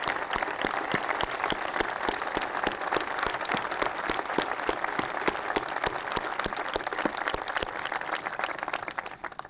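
Sustained applause from a large crowd at a 1994 presidential bill signing, dense steady clapping filling the whole stretch and tapering slightly at the very end.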